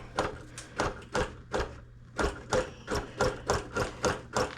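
Rhythmic mechanical stitching of a longarm quilting machine working a quilt on its frame, a rapid series of evenly spaced clattering bursts, moderately loud and close, with a short pause partway through before the pulsing resumes.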